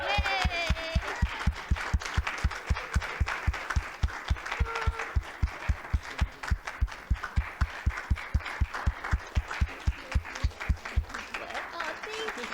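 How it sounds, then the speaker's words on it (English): Audience at a senior recital claps in a steady, even rhythm across the whole stretch, with a voice or two speaking over the applause near the start. "I think we should applaud again"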